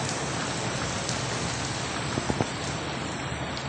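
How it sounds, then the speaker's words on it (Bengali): Heavy rain pours steadily in Saudi Arabia, a dense, continuous hiss with a few close drips and taps standing out near the end, no voices. "দমসে বৃষ্টি হইতে আছে"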